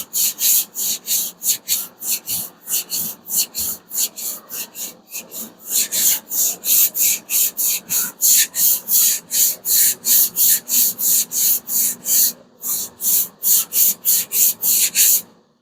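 A sanding block is rubbed by hand across the body of a Hemi Plymouth Duster during a car build, making a loud, close, rhythmic rasping scrape of regular back-and-forth strokes with a few brief pauses.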